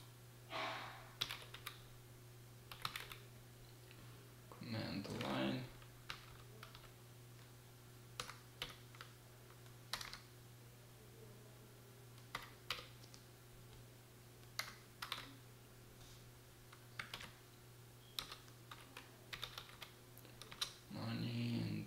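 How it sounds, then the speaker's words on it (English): Keystrokes on a computer keyboard entering a command at a command line, coming in short irregular bursts of clicks over a steady low electrical hum, with a couple of heavier thumps, fairly quiet and close. "Let me type this command in here."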